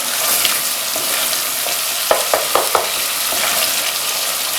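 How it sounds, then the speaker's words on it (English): A steady sizzling hiss of masala curry sauce stir-frying in oil in a pan, with a few quick scraping stirs partway through. "we're stir frying the sauce for a good few minutes before we can add the chicken"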